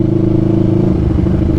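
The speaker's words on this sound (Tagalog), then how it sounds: "Tamang painit na lang tayo ng mga motor dun sa garahe para hindi malobat." Kawasaki-style NK400 motorcycle engine idling in a garage while warming up after sitting unused, a steady low throbbing rumble with faint clattering, close and loud throughout.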